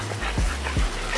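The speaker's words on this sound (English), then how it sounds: "Check out some puppies." French Bulldog puppies giving a few short, close yips and soft whimpers, in two quick bursts over a steady low background hum.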